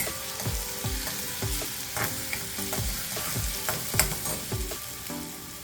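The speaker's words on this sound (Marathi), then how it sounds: "आता आलेलं आले लसूण आहे आपण हे छानपैकी परतून घेणार आहे" Ginger and garlic sauté for a bhelpuri chutney with a lively sizzle, as a spoon stirs in regular strokes about twice a second, each scrape distinct and close.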